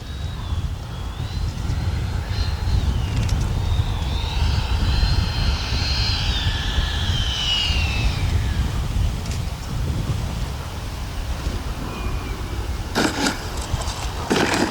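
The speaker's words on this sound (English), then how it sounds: "flyby with gear down" An FMS Integral 80mm Sharky RC jet makes a gear-down flyby, its turbine-like whine loud and steady over constant wind rush, swelling and bending in pitch as it passes, with a short rattle near the end.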